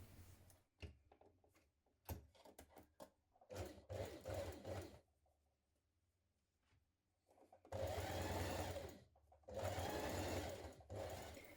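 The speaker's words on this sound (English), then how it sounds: "we're going to stitch this seam in position without stretching the fabric" A sewing machine stitches the shoulder seam of a gymnastics leotard in several bursts, with short stops between runs and two longer, louder stretches of steady stitching near the end.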